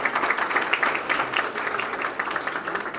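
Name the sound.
audience applause at song launch event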